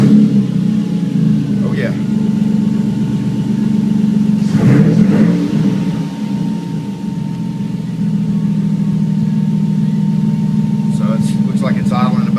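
A car engine fires up after wiring repair work and revs, a steady low mid-range engine drone running throughout with a louder rev burst near the middle, close and loud, while a person speaks briefly over it.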